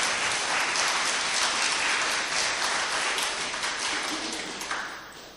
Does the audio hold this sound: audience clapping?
yes